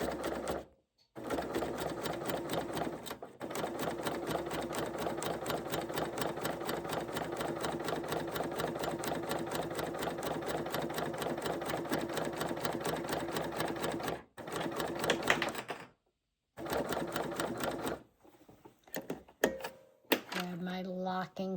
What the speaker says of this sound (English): And let's stitch this long edge.